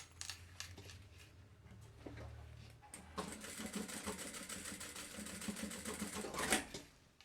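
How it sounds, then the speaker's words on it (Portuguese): A sewing machine stitches fabric for a thermal lunch bag, a steady, close mechanical whir that builds and runs unbroken for several seconds before stopping, with no talking. "Acho que vou ter que cortar, dar uma costurada aqui a mais."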